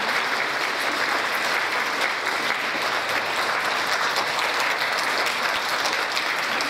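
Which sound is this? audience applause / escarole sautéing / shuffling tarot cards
audience applause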